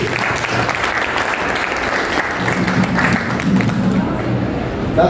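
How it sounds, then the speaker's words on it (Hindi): An audience at an IBC company celebration party in Raipur claps steadily and loudly for several seconds, a dense continuous applause with crowd murmur mixed in. "जोरदार तालियां उनके लिए"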